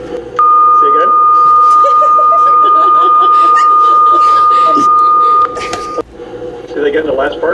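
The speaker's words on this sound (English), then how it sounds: "That's the alarm, yes, it's been quite entertaining in here." A steady electronic alarm tone sounds inside a noisy brain-scanning machine, holding one pitch for about five seconds over loud mechanical rumble, with a person talking through it.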